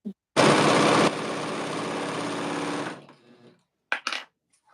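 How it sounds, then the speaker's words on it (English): Sewing machine running a long basting stitch on a skirt, a loud continuous close whir lasting a few seconds before winding down, followed by a couple of brief clicks. "I'm going to do a basting stitch at my longest stitch length, which is 5"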